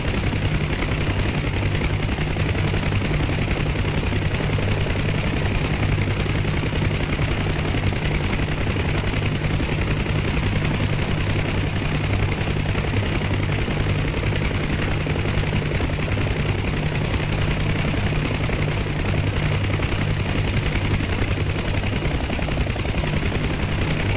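UH-1 Huey helicopter flying low in DCS, a loud, continuous rotor thump and turbine roar that stays steady and close the whole time, with no speech.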